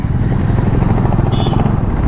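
A motorcycle on a long ride hums with a steady, loud low engine drone and rushing wind, heard close and unbroken throughout.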